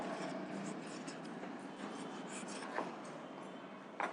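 Steady scratchy rubbing of writing on a board, a continuous close stroke sound with a couple of short sharper taps near the end.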